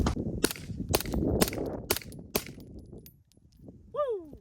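A Kuna pistol-caliber carbine fires subsonic 150-grain rounds, five sharp, fairly quiet reports in quick succession, close and alone, followed by a ringing metallic ping.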